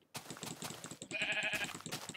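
Sheep in the video game Minecraft bleating, short repeated bleats layered over a clicking patter, fairly quiet and close.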